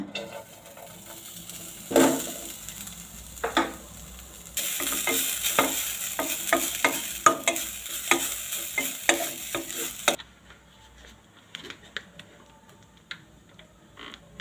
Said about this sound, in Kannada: ಸ್ಪೂನಷ್ಟು ತುಪ್ಪ ಹಾಕೊಂಡು ಹುರಿತೀನಿ